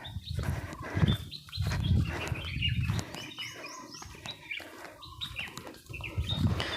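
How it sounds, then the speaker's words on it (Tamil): Small birds chirp and tweet around a tribal village in the Western Ghats forest, scattered high calls repeating over a rumbling outdoor background, fairly close with no one talking. "சுற்றியுமே வந்து இந்த குருவிகை கத்துற சவுண்டு தான் சூப்பராக இருக்குது"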